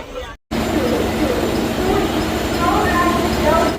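Inside a general-class passenger compartment of a train running from Khurda Road to Puri, a steady loud rumble and rattling of wheels fills the carriage, with voices of passengers talking underneath.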